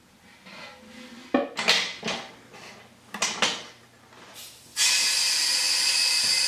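A resin-filled mold going into a metal pressure pot: a series of clanks and metallic knocks as it is handled and the lid set, followed by a sustained loud hiss of air pressurizing the pot.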